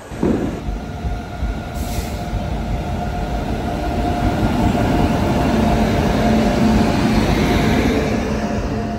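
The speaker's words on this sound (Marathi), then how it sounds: "ही ट्रेन आहे ना, ही पेनवरून 1:30 वाजताची आहे" A passenger train running at night on the Konkan route from Pen, heard from inside as a loud, continuous rumble of wheels on rails with a steady drone and faint squeal.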